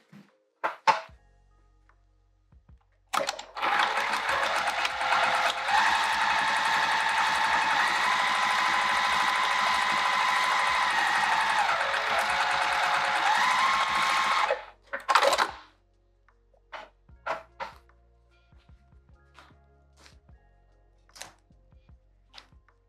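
A sewing machine stitches a zipper pouch cut from a skirt, working through a double fabric layer: one steady whirring run of about twelve seconds that speeds up and slows, then scattered clicks and handling noises.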